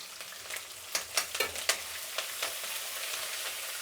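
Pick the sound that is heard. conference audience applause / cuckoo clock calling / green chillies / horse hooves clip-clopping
green chillies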